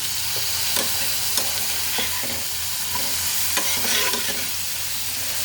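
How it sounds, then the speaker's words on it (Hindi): Paneer shallow frying in a pan gives a steady, close sizzle and crackle, with scattered spatters and stirring scrapes running through the whole stretch and no voices. "ये फ्राई हो रहा है"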